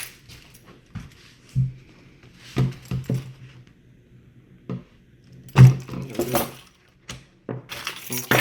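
Scattered metallic clinks and jangles of keys, irregular and close, between quieter handling noises, with a louder rattling burst partway through.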